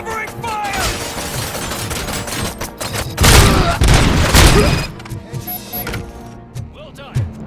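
Heavy gunfire in the video game RoboCop: Rogue City, with dense volleys and booming impacts peaking midway and then fading. Voices talk throughout the action.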